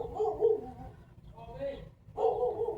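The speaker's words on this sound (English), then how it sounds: "Dogs. Hold on." Dogs barking at a home birthday party for a dog, a few muffled barks and yips in short bursts separated by a pause, fairly close.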